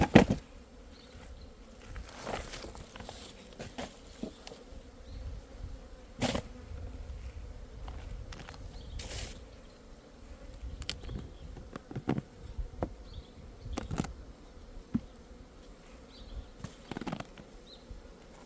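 Honeybees buzz outside a weak hive on an October day, a continuous low drone with individual bees passing close now and then, crisp zips that rise and fade through the steady hum.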